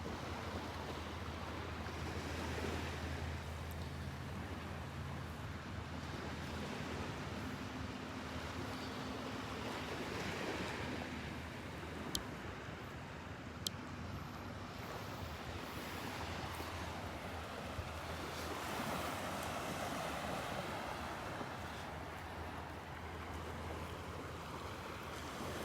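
Surf rolling onto Delnor-Wiggins beach makes a soft, steady wash, with breeze rumbling lightly across the microphone. It stays faint and even throughout, with no talking.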